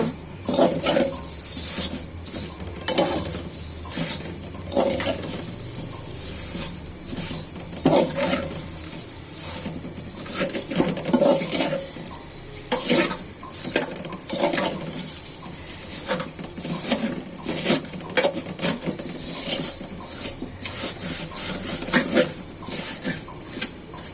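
Vermicelli (semai) frying in oil in a pan as it is stirred, a continuous sizzle broken by repeated scraping and clinking of the spoon against the pan.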